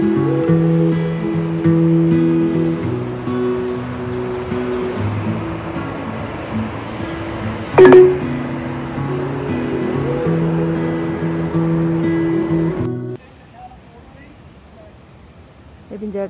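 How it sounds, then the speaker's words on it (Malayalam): Water from the Punnayar waterfall in Idukki rushes below a forest path as a steady broadband hiss. People talk over it, and the roar drops away sharply near the end. "താഴെ വെള്ളം ഒഴുകുന്നതിൻ്റെ സൗണ്ടൊക്കെ നന്നായിട്ട് കേൾക്കാം"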